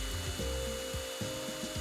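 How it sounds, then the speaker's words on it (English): Small drill bit boring a pilot hole in a plastic case for a turntable motor speed controller mod, a steady close grinding whir with shifting pitch and short bites, no talking. "With a small drill bit, first I drill a small pilot hole,"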